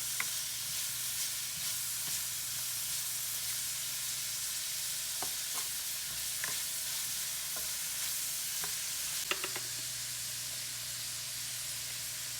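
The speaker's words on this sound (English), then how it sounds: "I put some oil in the pan, and I put the chopped onions and the peppers in here now" Chopped onions and peppers frying in oil in a pan, a faint continuous hissing sizzle with occasional small pops and spatula taps over a low hum, close by and without speech.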